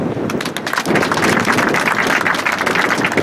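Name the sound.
audience applause at a naval base ceremony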